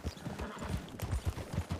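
Horse hooves clip-clopping in a quick, regular rhythm of close, distinct thuds, fairly loud and without talking over them.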